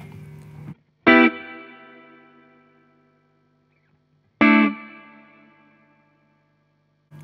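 Two sharp plucked guitar notes, each blooming into a long decaying reverb tail with a bright, fizzy top like a spring reverb, from an affordable reverb pedal; a brief distorted strum opens and closes the passage.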